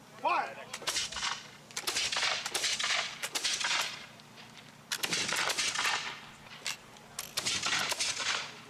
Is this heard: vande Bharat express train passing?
no